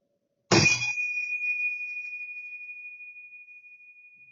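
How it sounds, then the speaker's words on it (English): A meditation bell is struck once after a brief silence, a clear bright ring with a sharp metallic onset that settles into one pure sustained tone and slowly fades over several seconds, alone in a quiet room. "just listen to the bells until they stop ringing"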